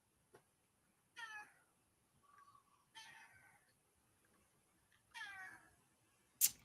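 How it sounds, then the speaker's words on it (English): A cat meows three times at a moderate distance in a quiet room, with short gaps between calls and a brief higher chirp in between, then a sharp click at the end. "I don't know what's up with the cat today"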